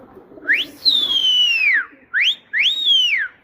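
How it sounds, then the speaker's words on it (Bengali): A person whistles to call pigeons: one long rising-and-falling whistle, then two shorter ones in quick succession, loud and close with no talking. "ভাই শীষ মারো গো শীষ মারো"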